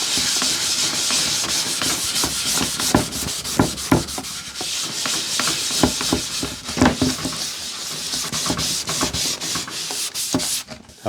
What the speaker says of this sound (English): the next step is to use some cutting compound. This is automotive compound.